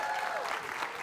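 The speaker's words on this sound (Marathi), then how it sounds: "जोरदार टाळ्या." An audience at a staged press-conference event on a comedy show applauds steadily, a dense, even wash of clapping throughout.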